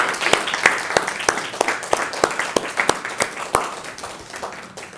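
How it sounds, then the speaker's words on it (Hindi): A church congregation claps in praise of the Lord, loose rhythmic handclaps with sharp individual strikes standing out over a steady patter, fading slightly toward the end. "ताली बजा सकते हैं हम प्रभु के लिए।"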